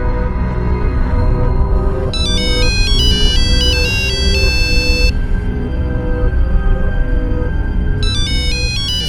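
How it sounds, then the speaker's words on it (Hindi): A phone ringtone inside a house trills loudly in repeated electronic bursts, pausing and then starting again, over a steady background hum. "हाँ हाँ, फोन तो अंदर बज रहा।"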